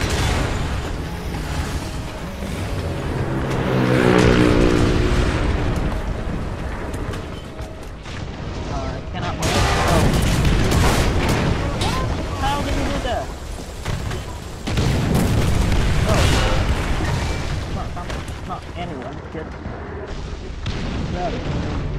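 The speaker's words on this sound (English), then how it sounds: "Can I get my artillery fire, please?" Heavy artillery in the War Thunder combat game, with repeated deep booms and rumbling explosions rolling through a noisy battlefield, loud and near, while a player talks over parts of it.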